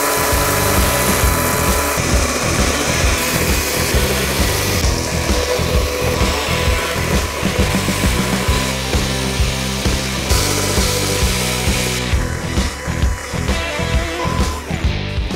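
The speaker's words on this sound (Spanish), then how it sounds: "sigan esa grieta con la motosierra o con el hacha" A chainsaw cuts a log along its crack to make a Swedish torch, engine droning loud and close without a break while the chain bites into the wood in rough rhythmic pulses.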